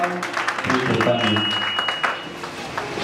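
A church congregation applauds during a Sunday service, a dense burst of clapping mixed with voices that swells early and then tapers off, with talk continuing over it.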